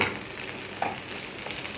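Turkey berries sautéing in a pan for a thuvaiyal, a soft continuous sizzle with faint stirring scrapes over a short stretch, fairly quiet and steady.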